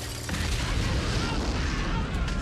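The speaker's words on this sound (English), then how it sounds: "Molotov time." A Molotov cocktail bursts into flame in a World War II battle scene, a heavy booming whoosh that swells after a brief lead-in and holds as a dense, loud roar of fire and blast rumble with no clear pauses.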